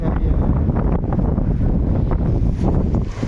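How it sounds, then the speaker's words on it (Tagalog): Strong wind buffets the microphone in a constant heavy roar during heavy rain, gusting without pause. "Lakas pa ng hangin."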